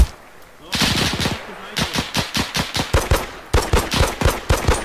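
Machine gun fire in the ARMA 3 military game, loud rhythmic bursts of sharp shots after a short quiet start, with brief pauses between volleys.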